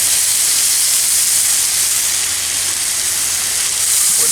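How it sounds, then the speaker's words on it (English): Garlic butter sizzles hard on a hot griddle while being spooned over chopped ribeye, a loud, steady, bright hiss that fills the whole moment without a break. "We're going to spoon some of this garlic butter on there, folks."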